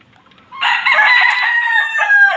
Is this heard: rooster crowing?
yes